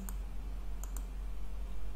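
Mouse clicks while tables are selected in a Microsoft Fabric Lakehouse, with a few sharp, close clicks in two groups over a steady low hum of room noise.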